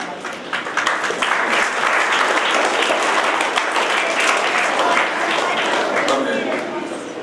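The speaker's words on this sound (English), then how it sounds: "So you guys can give yourself a round of applause for that." Students at a school cybersecurity awareness event in RBVRR School give a round of applause, dense and loud steady clapping from a crowd that holds for several seconds before easing slightly at the end, with some voices mixed in.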